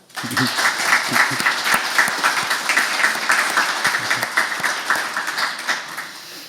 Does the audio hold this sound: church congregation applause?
yes